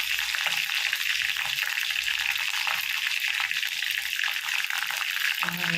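Dried red chili sizzles steadily in hot oil in a pan while tomato rasam is being made, a continuous bright crackling hiss with no talk over it.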